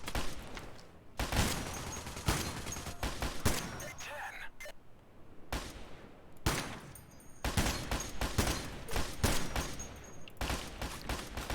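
Gunfire in the game Counterfit: dense bursts of rapid shots and fusillades, loud and close, broken by short pauses, with tactical callouts spoken over the action.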